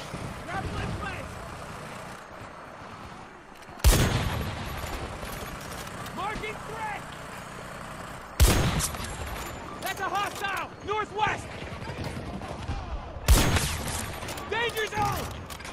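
Weapons fire in the video game Battlefield 2042: three sharp, loud blasts stand out over a busy mix of rattling shots and engine rumble, with players talking throughout.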